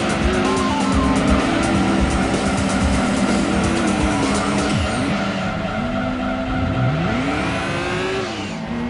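Race cars from the PlayStation game Gran Turismo 2 roar through a road race, with loud continuous engine drone, shifting revs and tire squeals sliding in pitch, steady and close throughout.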